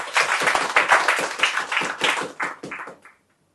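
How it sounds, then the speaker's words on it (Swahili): An audience at a standards-club gathering for schoolchildren claps together in short uneven bursts, fairly close and lively, the applause thinning and stopping after about three seconds with no talking. "Tujipigie makofi kwanza."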